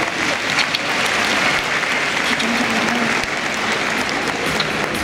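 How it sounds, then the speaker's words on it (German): Spectators give a strong farewell round of applause to two horses after a horse-loading training demonstration. The clapping is dense, steady and loud, and it fills the whole stretch without a break. "die beiden Pferde haben sich nochmal einen ganz kräftigen Abschiedsapplaus hier verdient"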